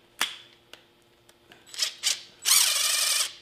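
An impact wrench driving a 5-inch tool open and closed: a sharp click, a few short rattling bursts, then a longer loud buzzing whir toward the end, close and alone.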